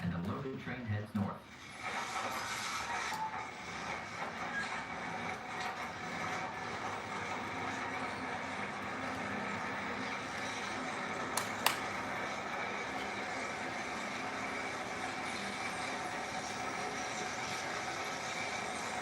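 Locomotive 477 pushes a loaded freight train onto the main line with a steady, distant rumble and hiss of rolling cars, broken by a couple of sharp metallic clanks.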